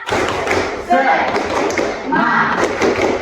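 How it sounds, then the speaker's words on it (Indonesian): A classroom of students does a rhythmic spirit clap during a biology lesson, with dense, patterned bursts of hand claps and thumps that rise and fall over about three seconds, mixed with voices. "kita tepuk semangat dulu. Tepuk semangat."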